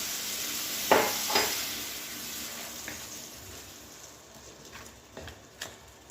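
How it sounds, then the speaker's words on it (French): A small splash of water hitting hot spices in a pan for a meatball tajine, bursting into a sharp hiss that fades to a steady, softening sizzle with occasional stirring clicks. "Je vais mettre un petit peu d'eau, pas beaucoup, pour éviter que les épices ne brûlent."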